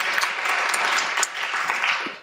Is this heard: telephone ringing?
no